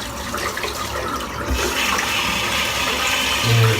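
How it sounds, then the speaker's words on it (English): Water running steadily from a tap as a shaving brush is rinsed beneath it, a continuous close splashing rush with a slight rise in level near the end. "let me just rinse this brush out"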